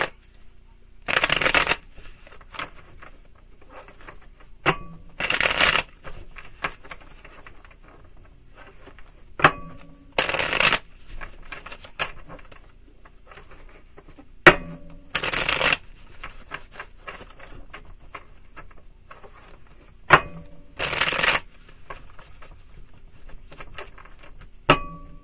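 Tarot cards are shuffled in five short riffling bursts, spaced a few seconds apart, with quiet handling noises between them; close up, no one speaks.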